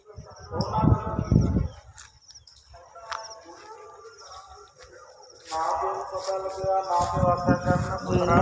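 Birds chirp and tweet at intervals, thin high calls scattered across the scene, partly mixed with other nearby sounds.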